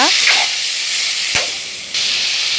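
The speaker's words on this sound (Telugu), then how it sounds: "కట్ చేసి పెట్టుకున్న ఈ బీరకాయ ముక్కలను కొంచెం సాల్ట్ వేసుకొని శుభ్రంగా వేగించుకోవాలి" Ridge gourd pieces fry in a pan with salt and garlic, giving off a steady, fairly loud sizzling hiss with a few brief spatters, heard alone with no talking.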